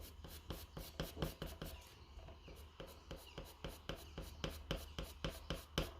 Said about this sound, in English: And then cross hatching will look like this.